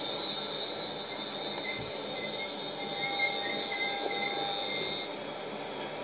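A London Overground Class 378 electric train passes steadily with a continuous rumble and a high wheel squeal or whine held throughout, fairly close, with no talking.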